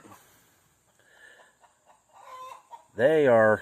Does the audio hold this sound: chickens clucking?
yes